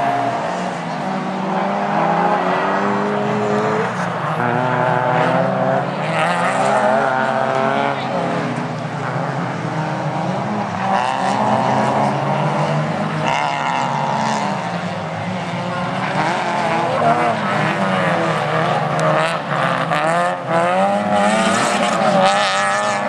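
Honda and Peugeot 306 race cars battling closely at a Fol'Car event at Dreux, with loud, continuous engine roar, shifting revs and a commentator talking over the racing throughout.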